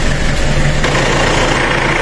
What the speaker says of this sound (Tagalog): So ayan, pandarin natin yung makina.